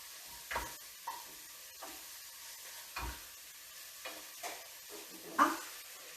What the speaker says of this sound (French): Je vais mélanger les oignons.